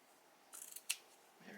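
Scissors snip through a flannel shirt seam in a quiet room, a short run of crisp blade clicks ending in one sharp cut.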